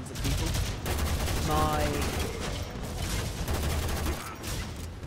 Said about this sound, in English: This is my most powerful ability, which is just literally firing javelins at people